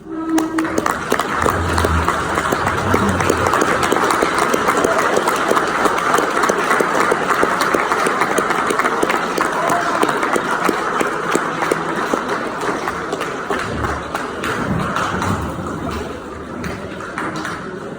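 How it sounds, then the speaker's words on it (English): Soldiers of a cavalry troop giving a round of applause, a sustained burst of many hands clapping together at close range that holds for nearly the whole stretch before easing slightly at the end. "ask the soldiers to provide a round of applause for all of our family members"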